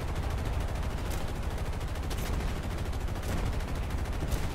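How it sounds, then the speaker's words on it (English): Machine gun fire from a B-17 bomber in the War Thunder video game on PS4 rattles continuously at a fairly low level, a dense, unbroken stream of rapid shots with slight periodic swells. "Man, he's shooting ray tracers, it's hard to see."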